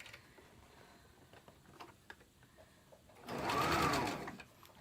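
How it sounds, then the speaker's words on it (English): A sewing machine bastes a folded quarter-inch edge on mask fabric, its stitching whirring up loudly and close near the end after a stretch of quiet handling clicks and rustles. "I'm just going to fold that over roughly 1/4 inch and baste that down."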